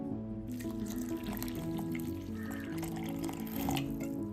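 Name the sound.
water poured into grinder for kootu curry paste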